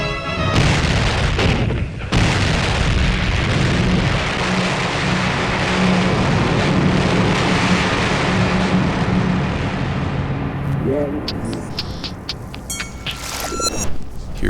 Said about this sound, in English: The Iowa's commander orders her 9 16-inch guns to fire a mighty salvo.